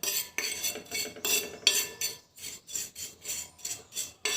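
Coffee and mustard oil are mixed in a bowl, a steady series of rhythmic scraping strokes, about a dozen, close and moderately quiet, with no talk.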